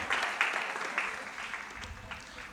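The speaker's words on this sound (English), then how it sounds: "They need a big round of applause for being quick learners too." An audience at a program event claps in a short round of applause, a dense patter of many hands at moderate distance that swells briefly and tapers off, with faint voices underneath.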